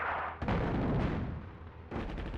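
Explosions from bombing in the North Africa real-time strategy game Attack at Dawn: a loud dense burst of rumbling blasts, then a slightly quieter rolling tail, with a second sharp blast near the end.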